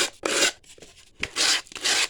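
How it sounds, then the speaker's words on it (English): Folded sandpaper rubbed by hand over a Dollar Tree wedding guest book, giving three bursts of dry, raspy scratching, close and fairly loud, with brief quiet gaps between strokes. "we'll take our sandpaper"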